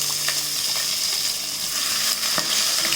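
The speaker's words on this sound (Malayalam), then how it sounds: "അതിട്ടിട്ട് വഴറ്റി കൊടുക്കാം." Crushed ginger, garlic and green chilli sautéing in a hot pan with steady, close sizzling and a few light scrapes of stirring, no voices.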